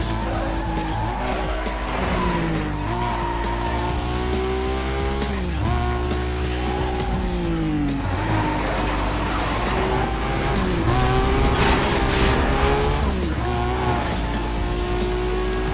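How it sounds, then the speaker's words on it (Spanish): A modified Nissan car in the video game NFS Most Wanted races along with its engine revving through repeated gear shifts while tires squeal and skid, loud and steady throughout. "Suena muy bien este auto"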